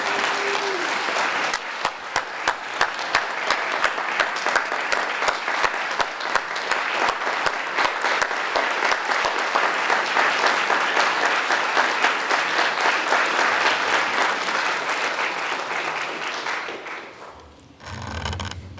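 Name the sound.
warm round of audience applause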